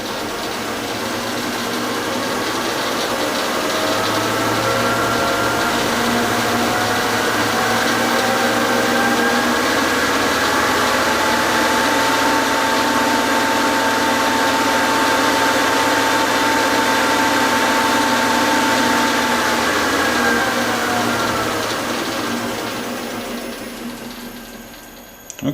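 An off-center chuck, carrying an offset angle plate and V block, spins on a lathe at about 1000 RPM, giving a loud, steady whirring drone that holds evenly for the whole stretch and fades out at the end.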